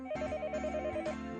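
A telephone rings in the Higurashi visual novel game: a steady electronic trill repeating in rapid pulses, with a brief pause partway through, close and clear with no talk.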